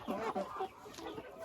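Young chickens cluck softly while eating grass in a summer yard, a few quiet close calls with no talking.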